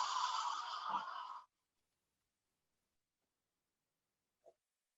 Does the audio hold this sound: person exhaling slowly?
yes